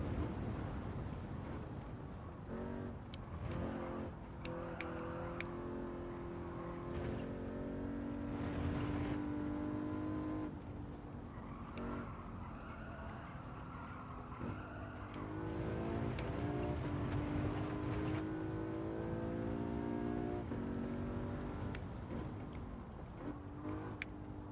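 A race car in Gran Turismo 7 runs hard, its engine note rising and falling through gear changes and corners, continuous and fairly loud with no talking.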